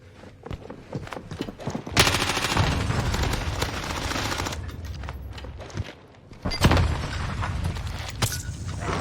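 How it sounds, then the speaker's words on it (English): Gunfire in the video game Warzone, with sustained dense bursts of automatic shots and a heavy fusillade that runs almost without pause and swells again near the end, loud and continuous, with no talk over it. "Receiving hostile fire."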